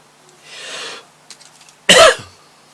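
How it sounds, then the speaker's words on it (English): A single sharp cough from a person with a chest infection, close and loud, preceded by a soft breathy exhale, in an otherwise quiet room. "Sorry about the coughing, but I've had a chest infection."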